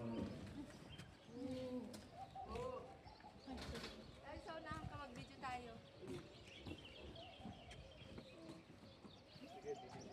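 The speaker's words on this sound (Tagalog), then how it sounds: "Ibon yan, ibon." Birds coo and chirp nearby amid a busy, noisy zoo setting, with people talking over them and scattered knocks and clatter.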